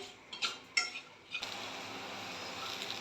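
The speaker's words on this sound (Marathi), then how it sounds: "मिरच्या मी 5 मिनटं अशा तेलावर परतून घेणार आहे." Fresh red chilies sauté in oil in a pan for Karnataka-style ranjaka thecha. A few close clinks of a spatula against the pan give way to a steady, soft frying hiss.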